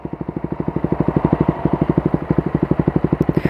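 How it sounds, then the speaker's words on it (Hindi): A motorcycle fitted with a modified band exhaust pipe idles close by, its loud, even, rapid thumping pulses going on steadily with no talking. "तो अभी सुनो आइडियल साउंड, ये है आइडियल साउंड इस बाइक का, देखो।"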